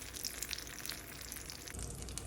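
Steady crackling sizzle of oil in a hot pan while grilled cheese sandwich bread is placed in, with bright spitting pops scattered throughout, close and continuous.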